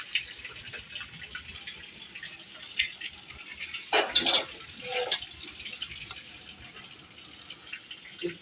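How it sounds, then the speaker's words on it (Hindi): Heavy rain pours into a tub set out in front of a house, a steady watery splashing and trickling with a louder gush of filling water in the middle, close by with no talk. "बारिश इतनी तेज हो रही है, ये देखिए हमारे घर सामने में बर्तन रखे हुए ना, उसमें भी बारिश"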